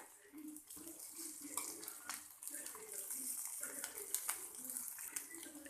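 A Kerala-style four o'clock snack fries in hot oil as it is turned once it goes light golden, giving a steady watery crackle and bubbling throughout, with occasional clicks from turning and faint voices underneath.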